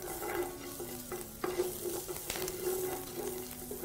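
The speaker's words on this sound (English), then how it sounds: "I'll start by adding a little oil to my pan. Then my ginger and garlic." Ginger and garlic frying in a little oil in a pan while being stirred, giving a steady close sizzle with scraping stir strokes throughout, no talking.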